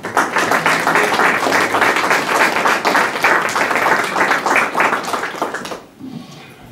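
A church congregation at an Easter Sunday service applauds with dense, sustained clapping for about six seconds before it quickly fades away.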